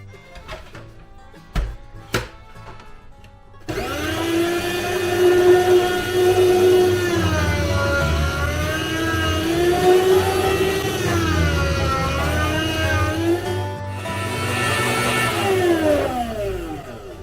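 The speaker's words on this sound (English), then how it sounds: "we're going to go ahead and get the meat slicer out and cut that up" An electric meat slicer cuts an eye round roast for jerky, a steady loud motor whir with a grinding blade tone that starts abruptly after a few clicks and runs continuously, briefly dipping near the end.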